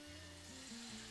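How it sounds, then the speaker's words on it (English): Food sizzles and fries in a hot pan, a faint, steady crackle with low tonal hum beneath it, heard alone without talk. "Yeah, that's a sizzle."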